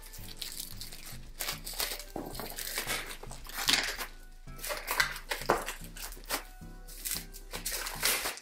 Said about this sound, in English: Let me just unwrap it so you can see it.